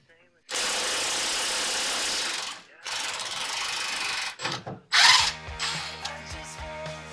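A Makita power tool at work on a rusty Toyota restoration, running in loud sustained bursts with short pauses between them, then choppy grinding and ratcheting noises near the end.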